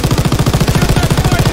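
Rapid automatic gunfire in Call of Duty WW2 combat, a steady, loud burst of evenly spaced shots running continuously and close up with no talk over it.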